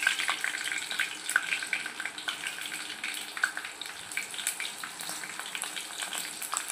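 Cumin and whole spices fry in hot oil for a Hyderabadi mutton dum biryani, giving a steady close crackling sizzle with quick popping spits throughout and no talking.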